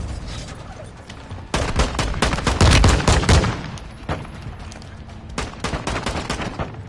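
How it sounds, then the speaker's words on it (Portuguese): Video game gunfire from a PS4 shooter, loud sustained bursts of rapid automatic shots that swell into a dense fusillade, then scatter into shorter volleys. "Olha todos os tiros."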